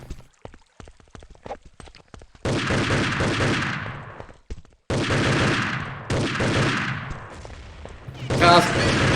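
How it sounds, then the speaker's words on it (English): Automatic gunfire in the online shooter Urban Terror during a World Cup match, with a magazine emptied toward a bridge: a few sharp scattered shots, then long dense sustained bursts of rapid fire, loud and up close. "Decided to go full American here and unloads half of his magazine toward bridge."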